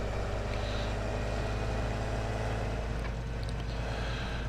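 A tractor engine runs steadily in a John Deere farming video game, a continuous low mechanical drone with a rumbling idle-like tone and no talking.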